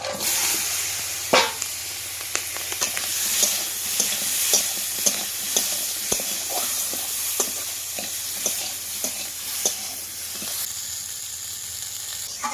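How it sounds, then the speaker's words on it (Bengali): Shrimp frying in a wok: a close, steady sizzle broken by repeated sharp scraping clicks of stirring, no talking. "চিংড়ি মাছগুলো কিন্তু ভাজা হয়ে গেছে"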